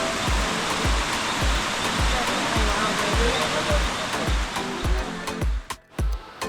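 Santa Helena waterfall pours beside natural thermal hot springs in Colombia's Coffee Region, giving a steady, dense rush of falling water that fills the scene, with a regular low thumping pulse underneath and brief dips near the end.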